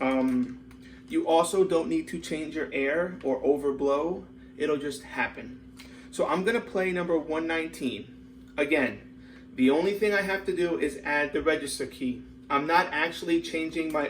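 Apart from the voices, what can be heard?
No distinct noise like a dog, phone or traffic.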